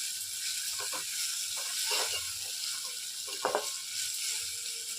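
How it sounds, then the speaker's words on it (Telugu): Ginger paste sizzles steadily in hot oil for upma, a constant frying hiss with a few soft scraping stirs and clinks of a spoon against the pan. "కొంచెం ఈ అల్లం పేస్ట్ వాసన పోయేంత వరకు మనం ఆయిల్లోనే ఇలా కలుపుకుంటూ ఫ్రై చేసుకోవాలి"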